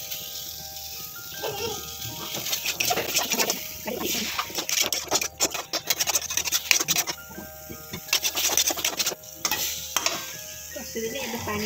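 Potatoes fry and sizzle in spiced masala in a pan while being stirred, with scraping and stirring noises rising and falling over a steady sizzle for prawn curry, and a voice murmuring briefly in the background.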